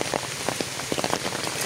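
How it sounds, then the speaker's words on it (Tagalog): Rain falls steadily on a mountain day hike in Zambales, a dense close patter of drops striking surfaces with no voices. "It's raining."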